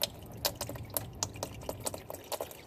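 Old motor oil drains from the engine of a 2016 BMW X3, a soft, continuous liquid trickle and splatter with irregular drips, faint and close, with no talking.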